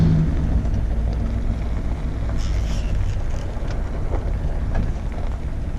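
A 1994 Ford F150 4x4 with a swapped-in Saginaw power steering pump drives along with a low, steady engine and road rumble, free of any pump moan or whine.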